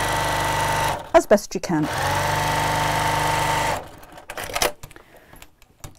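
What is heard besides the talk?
sewing machine stitching a seam on a tote bag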